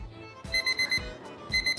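An alarm clock rings in repeated bursts of bright electronic beeping, several pulses in a row, fairly close and loud, with no talking.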